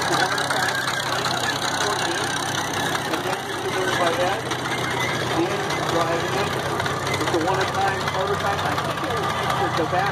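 A Sherman tractor engine runs in the 2016 Yankee Engine Show tractor parade, a steady, loud, rough mechanical chug with a voice talking over it throughout.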